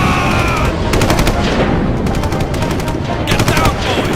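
World War I trench machine gun fire, bursts of rapid, loud rattling shots over a dense, constant roar of battle noise, with no pauses.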